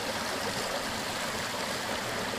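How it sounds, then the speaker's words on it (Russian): A mountain river, the Telbis, rushes close by in a steady, unbroken broadband wash of flowing water, with no voices over it. "Вот она, ребята, горная речка."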